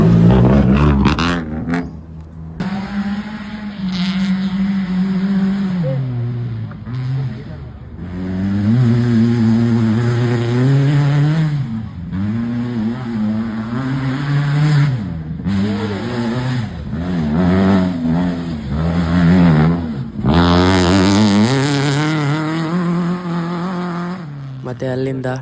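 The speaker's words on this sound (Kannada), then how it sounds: "ಮತ್ತು 2 ವೀಲರ್ ರೇಸ್ ಸ್ಟಾರ್ಟ್ ಆಯಿತು" Dirt bike engines at a two-wheeler motocross race rev and rise in pitch, swelling in repeated waves of acceleration, loud and close, with a voice talking over part of it.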